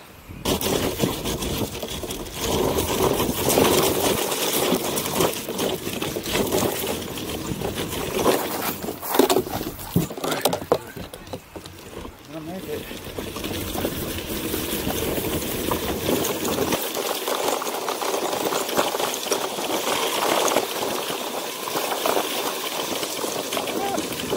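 A motorized icebox cooler electric skateboard on 6-inch rubber wheels rolls along with a continuous rough whirring and rumble that swells and eases, with people talking over it.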